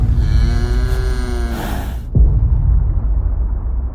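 A cow in an AI-generated video gives a loud, drawn-out moo lasting about two seconds, then a deep low rumble like fire or an explosion takes over and continues to the end.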